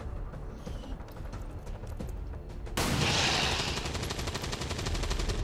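Automatic weapon fire in XCOM 2: War of the Chosen, a steady rapid burst of shots that jumps sharply louder partway through and continues as dense, loud gunfire.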